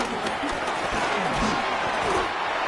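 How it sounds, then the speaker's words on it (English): Stadium crowd noise in the American football game Madden NFL 26, a dense, steady roar of fans with scattered thumps and bursts, loud and continuous throughout. "What about this crowd getting even louder before 3rd and 10?"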